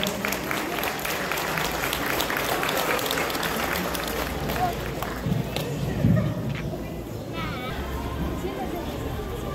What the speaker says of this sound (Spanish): Brindémosle un fuerte aplauso a la alumna